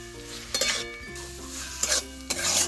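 A spoon stirring boiled drumstick leaves and water in a pan, a few scraping strokes and metal clinks over a soft bubbling hiss, close by with no voices.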